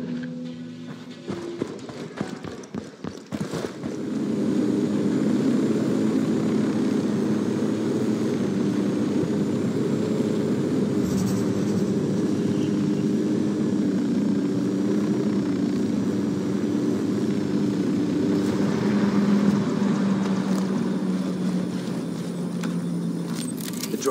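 A drone lifts off in the video game Ghost Recon Wildlands, its engine droning as a steady, loud hum with a broad buzzing tone that holds for the full stretch after brief clicks at the start.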